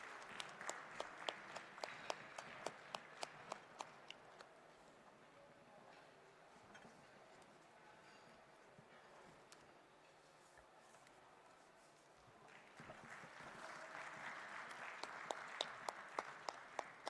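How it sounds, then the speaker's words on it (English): Panel-discussion audience at a maritime heritage conclave applauding the panelists: sustained crowd applause through the whole stretch, with sharper close claps at the start and end and a softer, steadier wash in the middle. "Please keep the round of applause coming for all our panelists."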